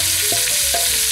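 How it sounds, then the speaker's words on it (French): Chopped onions hit hot fat in a pot for a veal sauté with olives, giving a steady close broadband sizzle, with a couple of clanks from utensils against the pot. "Directement, j'ajoute les oignons."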